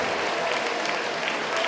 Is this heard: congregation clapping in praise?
yes